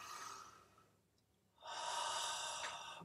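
A singer breathes in deeply into the chest during a vocal warm-up, two soft airy inhalations separated by a brief pause, close and clear, with no talking.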